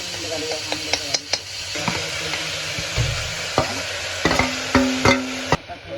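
Onions frying in oil with cumin, chilli, garlic paste and salt in a pan, a steady soft sizzle broken by repeated sharp scrapes and knocks of a spoon stirring against the metal.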